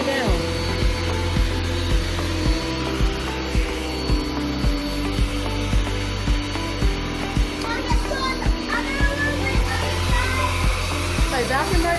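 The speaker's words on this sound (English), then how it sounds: "Hey, vacuum right there by the couch." Vacuum cleaner droning steadily in a living room, loud and close, with rhythmic bumping and rubbing as it is pushed along the floor and a voice faintly in the background.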